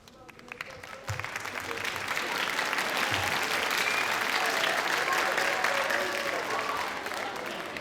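A middle school fall concert audience breaks into applause after a piece, a few early claps swelling quickly into sustained, full clapping from the crowd that holds steady throughout.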